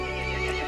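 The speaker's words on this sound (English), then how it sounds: "The horse grew angry and summoned the other monsters." A short horse whinny from Resident Evil Village with a steady, slightly synthetic tone, loud and close, with faint hoof-like clopping underneath.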